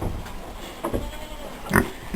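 Pigs on a small homestead farm grunting and oinking in a few short, close bursts, with quiet gaps between them and a louder cluster near the end.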